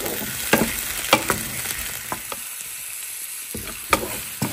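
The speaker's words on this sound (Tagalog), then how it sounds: "habang niluluto ko pa yung onion" Chopped onion sizzles in hot oil in a pan, a steady close frying hiss broken by several sharp clinks and scrapes of stirring.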